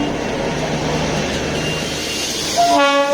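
The narrow-gauge Darjeeling Himalayan Railway toy train rumbles steadily along the rails, then a horn sounds near the end, loud and close.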